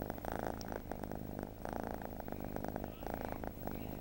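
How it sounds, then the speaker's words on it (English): A small kitten with blue eyes purring close up, a continuous rumbling purr with rhythmic pulses and brief breathing pauses, fairly soft and steady throughout. "He's a nice little cat."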